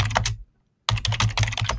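Rapid clatter of keystrokes on a computer keyboard, close and fairly loud, in two bursts separated by a short pause of silence.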